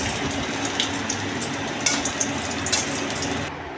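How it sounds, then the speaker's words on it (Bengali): Cumin and bay leaves sizzle and crackle steadily in hot oil in a pan, a dense frying hiss with a few brief clinks of stirring, close and fairly loud. "এবার ওই তেলে কিছুটা জিরে ফোড়ন দিয়ে দুটো তেজপাতা দিয়ে ভালো করে নেড়েচেড়ে নিতে হবে"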